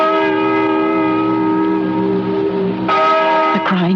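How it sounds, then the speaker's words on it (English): A large bell in an old barn rings with a sustained, resonant tone in a radio drama, one long ringing note decaying before a second strike sounds near the end, with no talking. "Listen to that bell."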